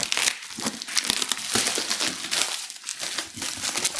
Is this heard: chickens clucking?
no